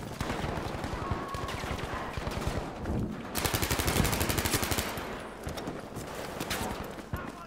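Submachine gun with the same rate of fire as the Tommy gun, firing in the video game Battlefield V: dense rapid automatic bursts over busy game noise and clatter, with voices talking underneath.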